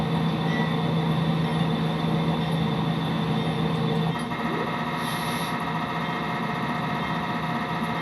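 A locomotive in the Train Simulator video game runs on the Seligman subdivision in Arizona, giving a steady, loud mechanical drone and rumble from inside the cab, with a faint brief hiss partway through and no talking.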